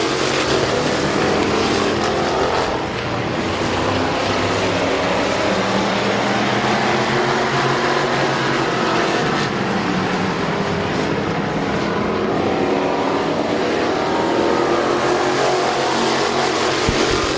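Race cars roaring around Midvale Speedway oval, a loud continuous engine drone of several cars together as the pack completes lap one.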